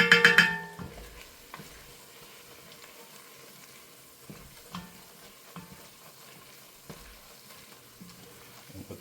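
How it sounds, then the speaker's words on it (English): Onions and garlic sizzling in a pot as the base for a chili, a soft steady fry with occasional scrapes and clinks of a utensil stirring, one louder clatter at the start. "here we are about 8 minutes into our onions and garlic cooking"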